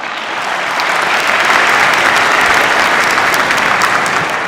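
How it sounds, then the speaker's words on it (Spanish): Audience applause following a lecture at a Lisbon forum on global trade, a dense, steady wash of many hands clapping that stays loud and even throughout, with no voices on top. "Uma salva de palmas,"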